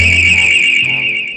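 A monitored business security alarm in an advert blares a steady, piercing electronic tone, loud and continuous for over a second before cutting off, with no talking.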